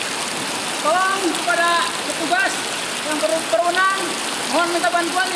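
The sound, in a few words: heavy rain during flooding in Tasikmalaya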